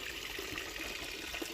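A cow drinking water mixed with salt and bran, a steady low-level slurping and trickling wash of liquid that runs continuously and fairly faintly throughout.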